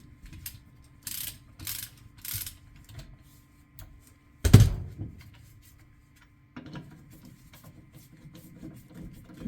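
Ratcheting wrench tightening rear wheel bearing bolts on a 2020 Lincoln Aviator, heard as short bursts of ratchet clicks with a sharper clank in the middle and quieter mechanical rattling afterward.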